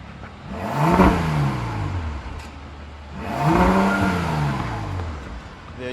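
Two sharp revs from the 600-horsepower W12 engine of a 2017 Bentley Bentayga, each a loud rising and falling engine swell about three seconds apart, heard close by with no talking.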